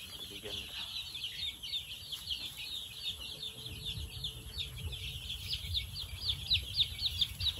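Chicks and chickens in a poultry pen chirp and cluck continuously, with high peeping from young birds throughout and low background noise.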